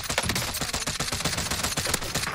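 Rapid automatic gunfire from the video game Call of Duty rattles in a dense, steady fusillade of loud, closely spaced shots without pause.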